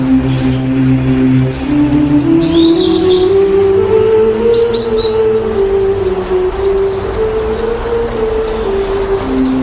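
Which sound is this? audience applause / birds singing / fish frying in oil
birds singing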